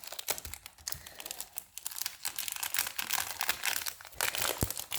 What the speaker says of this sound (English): So this is the rainbow glitter paper.